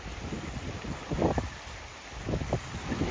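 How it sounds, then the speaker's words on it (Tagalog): Strong typhoon wind buffets the microphone at the sea's edge off Siargao, a steady broadband roar with two louder gusting surges, waves churning beneath. "Dahil sa bagyong Bibingka kaya mahangin masyado."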